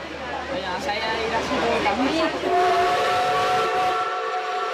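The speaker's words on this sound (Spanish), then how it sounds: "Con su locomotora a vapor y sus coches de madera restaurados, es la viva imagen de otra época." A steam locomotive pulling restored wooden coaches hisses and sounds its whistle, with a narrator's voice talking over the rail noise throughout.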